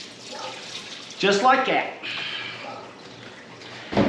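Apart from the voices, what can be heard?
diesel being poured into an engine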